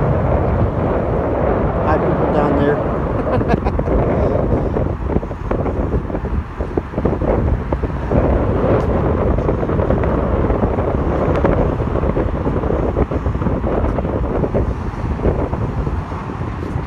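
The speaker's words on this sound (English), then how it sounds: "that wind's starting to pick up as we're going through mid suspension." Wind on a suspension bridge roars steadily and loudly across the microphone as a constant buffeting rush with no break.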